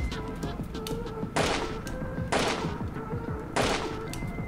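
Gunfire in the stealth horror game 2Dark, with three loud broadband blasts at roughly one-second intervals over a dense, busy game soundtrack.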